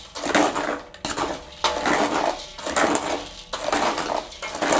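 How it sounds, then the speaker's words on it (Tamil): Dry chickpeas being roasted without oil in a pan, the hard legumes rattling and scraping in repeated stirring strokes, four loud sweeping bursts at close range with no talk. "இங்கே வந்து நாங்கள் கைவிடாமல் வறுத்து கொண்டிருக்கணும்"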